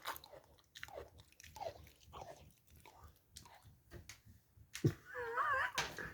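Close, quiet crunching and gnawing from a dog chewing, in irregular bites, with a brief whine near the end.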